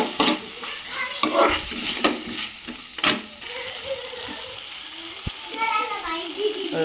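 Garlic cloves hit a hot pan for paneer butter masala, sizzling with clattering stirring and scraping, a few sharp knocks, and a faint voice in the background.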